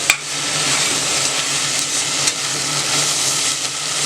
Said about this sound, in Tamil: இதெல்லாம் வதங்கினா கூட நம்ம இஞ்சி போட்டு போடுவோம், நல்லா வதக்கணும்.